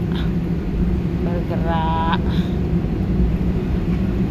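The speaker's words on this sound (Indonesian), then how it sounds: "Ini mulai pesawat bergerak" Inside the cabin of an airliner on a Hong Kong to Philippines flight as it starts to roll for takeoff: a steady, heavy low engine rumble fills the space, and a brief tonal sound rises over it midway.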